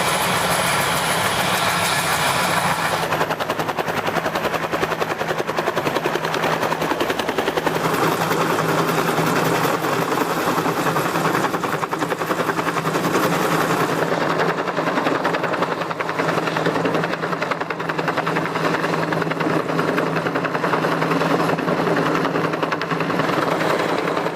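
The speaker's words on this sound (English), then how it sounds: "you got to see the helicopter come by and remove the existing flagpole on top of the old state capitol" A helicopter drones loudly and continuously with a throbbing rotor and engine roar, shifting in tone as it passes overhead, lifting a flagpole off the old state capitol in Springfield.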